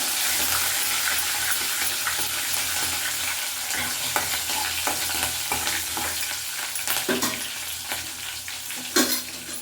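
Spices for tempering sizzle and crackle steadily in hot oil on low flame, a dense continuous hiss with a few sharper pops toward the end.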